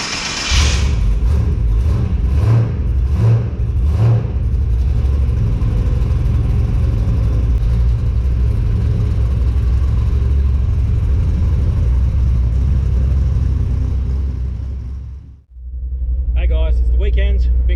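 XG ute with upgraded diff gears and a mini spool driving on the road, a steady loud engine and drivetrain rumble with brief pulses early, cutting out briefly near the end before resuming alongside talk.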